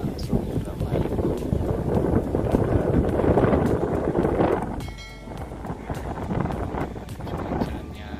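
Fairly strong wind gusts across the microphone at Karangsong fishing harbour in Indramayu, a loud buffeting roar that eases briefly midway, then returns steadier.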